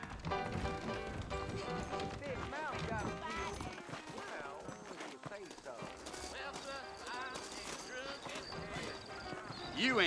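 Horses clip-clop in Red Dead Redemption within a busy game soundscape set around New Orleans, with hoof beats mixed under music and dialogue; voices talk throughout.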